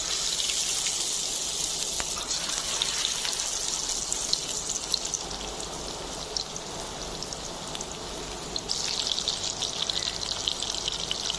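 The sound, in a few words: fish being deep-fried in hot white oil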